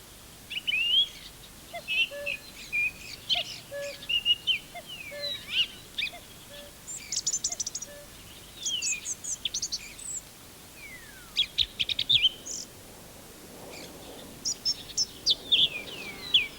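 Bright blackbird song of varied whistles and chirps in short phrases, with pauses between, moderately close over a quiet background.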